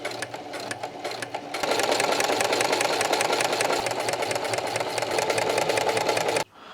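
A sewing machine stitching car seat upholstery panels, starting with slower bursts and then running loud and steady at speed with a rapid rhythmic clatter before stopping abruptly.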